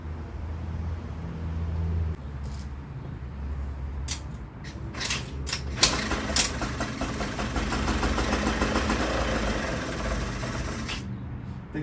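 Two-stroke engine on a Yerf Dog go-kart coughing and then catching, a low rumble and clatter that steadies into a rough, close idle with sharp knocks and a few clunks at the start.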